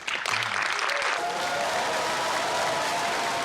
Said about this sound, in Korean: 봉준호 감독이 소개되자 박수가 터져 나옵니다.